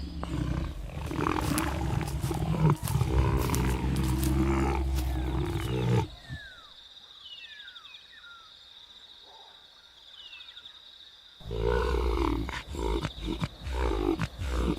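Lions fighting within a pride in the African wild, deep roars and snarling grunts loud and close at the start and again near the end, with a quieter stretch of insect chirps between.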